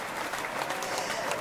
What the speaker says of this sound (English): Can we give her a round of applause?